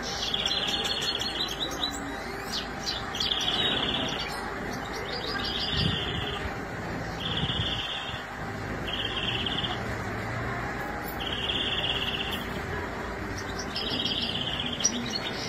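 Birds chirp in repeated short bursts over a constant outdoor hum, with occasional soft cooing in the background.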